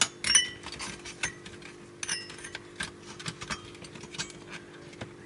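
Black Wii console shielding being lifted off during a teardown after all screws are out: light metallic clinks and scraping taps, several small clicks scattered across the clip, near and fairly quiet with a steady faint hum underneath.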